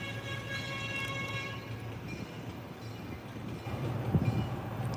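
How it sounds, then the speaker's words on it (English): A train rumbles past behind a screen of trees with a steady low drone and faint steady high tones, the sound growing slightly closer toward the end. "Yes, the train"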